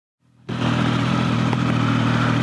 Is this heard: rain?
no